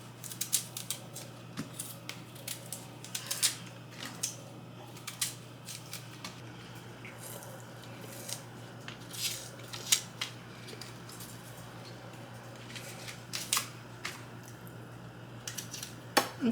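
A small knife scrapes and cuts through cassava skin in short, irregular strokes, close and crisp over a faint steady hum.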